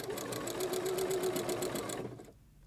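A sewing machine runs steadily at a quilting stitch length of 3, stitching a quilt binding with a fast, even rhythmic whir that continues unbroken for about two seconds and then stops.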